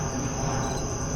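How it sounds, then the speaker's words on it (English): Crickets chirping outdoors at night, a dense continuous high-pitched trill filling the background with steady loudness and no talking. "I'm outside, got the crickets going."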